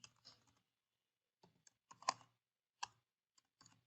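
Someone types code on a computer keyboard in short, quiet bursts of key clicks separated by pauses, close up and with no talking.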